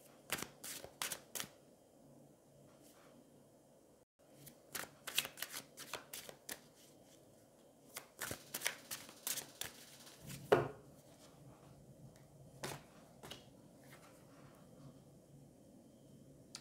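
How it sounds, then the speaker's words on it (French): Tarot cards being shuffled and handled up close: quiet bursts of crisp riffling and snapping clusters, separated by short pauses, with no voices. "Je vais prendre une carte ici pour voir un petit peu ce qui se passe."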